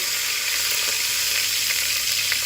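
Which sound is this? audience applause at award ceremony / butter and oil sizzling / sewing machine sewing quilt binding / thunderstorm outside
butter and oil sizzling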